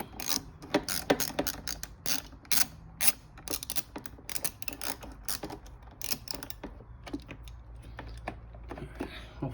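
Rapid, uneven ratchet clicks loosen a long bolt on a Dodge Challenger Hellcat during a headlight bulb change, close and fairly quiet, in irregular bursts.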